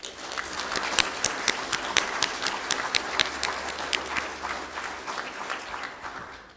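An audience applauds the graduating class at a business studies graduation ceremony, with individual hand claps standing out sharply over a steady patter of clapping that swells and then tapers off near the end.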